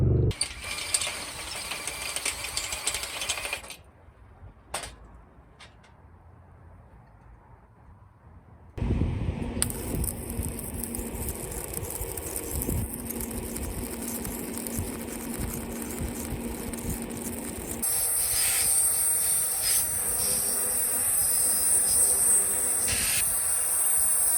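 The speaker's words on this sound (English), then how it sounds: "I just welded the bunks for the oxygen sensors" Steady hissing and crackling from welding oxygen sensor bungs onto a custom dual 3-inch exhaust with equal-length headers on a Ford F100 truck, with a quiet pause partway before the loud continuous hiss resumes and brightens toward the end.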